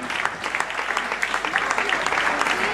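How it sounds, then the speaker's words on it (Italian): Audience clapping for Mauro and Antonio at an evening dance show, a dense, steady wash of applause throughout, with faint voices mixed in. "Un applauso a Mauro"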